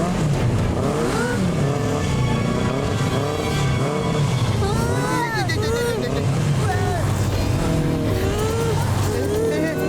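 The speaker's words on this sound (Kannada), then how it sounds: "ಈ ಬೈಕ್ಗಳು ಯಾಕೆ ನಮ್ಮನ್ನೇ ಸುತ್ತ ಹಾಕ್ತಾ ಇವೆ?" Several motorbikes circling close around, engines droning and rising and falling in pitch as they pass and rev, loud and continuous, with a voice briefly under the noise.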